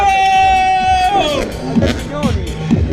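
Crowd at an outdoor motor show event in Longarone, Italy, shouting and whooping with a loud, sustained whistle or whoop at the start, then a babble of cheering voices and scattered yells throughout.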